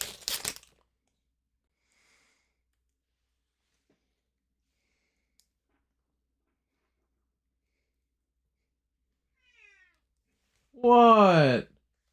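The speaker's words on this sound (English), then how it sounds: "Oh, there's the cat." Minecraft cat meowing in-game, one clear, loud, drawn-out meow near the end after long near-silence, preceded by a brief noisy burst at the start.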